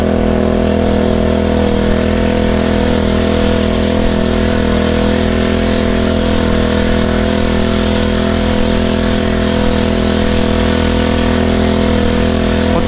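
An engine-driven sprayer pump runs nonstop in a rice paddy, giving a loud, steady mechanical drone with a constant buzzing hum that never changes pitch throughout, close by and with no voices.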